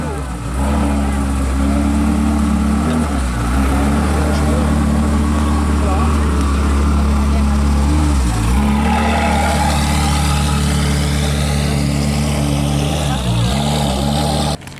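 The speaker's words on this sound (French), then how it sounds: "il est content dans la Ferrari, c'est parti pour un petit tour" A Ferrari engine at a car meet for sick children, a loud deep steady rumble close by that rises as it pulls away, with people talking over it.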